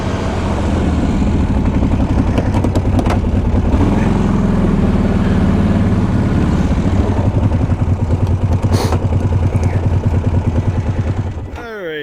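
A small engine runs loud and continuous at wide open throttle, its tone stuttering and uneven throughout, before cutting down near the end.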